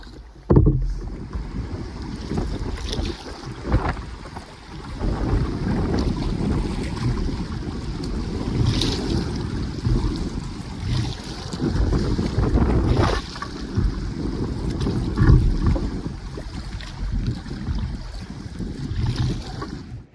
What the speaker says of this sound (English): it's a bit windy and I apologize for that